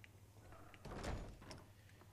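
A door in Skyrim swinging shut with a single soft thump, faint and brief over a low background hum.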